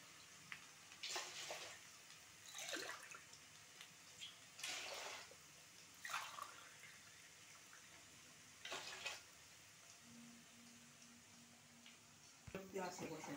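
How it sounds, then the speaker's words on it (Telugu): Water poured in several separate splashing bursts into a cooking pot for bagara rice, faint and close, with a low sizzle underneath and a short hum near the end. "ఇప్పుడు మనం బగారా రైస్కి ఎసురు పోసేద్దాం"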